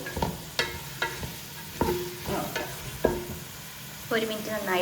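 Cabbage stir-fried over a high flame in a pan, with a steady sizzle and repeated sharp scraping strokes of the utensil, close and clear throughout.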